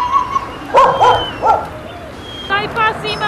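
Short dog barks and yips sound at close range alongside people speaking, with a few sharp bursts spread through the brief moment amid background noise.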